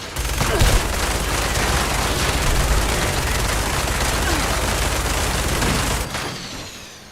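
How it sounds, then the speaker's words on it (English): A quad minigun fires in Fallout 76, unleashing a dense, unbroken roar of rapid gunfire for about six seconds before cutting off into a brief fading tail. The sound is loud and close, with no talking. "Behold, the quad minigun."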